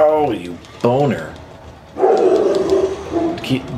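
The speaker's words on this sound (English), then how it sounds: "What are you barking at, dog?" A dog in the video game Monster Hunter World: Iceborne barks and yips in several loud, close bursts with pitched, whining tones, mixed with game sounds and a person talking.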